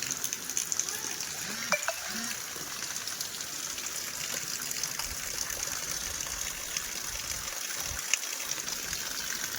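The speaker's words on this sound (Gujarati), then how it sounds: "અત્યારે જો પાણી હાલતું કરી નાખ્યું" Rainwater begins to run and gush through a mango orchard during a gentle rain, a steady close watery rush with brief low thumps and murmurs beneath it.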